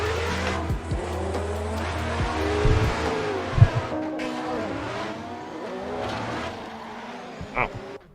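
A drift car in a sim racing game, engine droning and revving while tires squeal through long slides, with a couple of sharp impact-like bumps, loud and continuous throughout, no voices.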